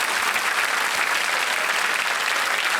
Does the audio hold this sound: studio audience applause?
yes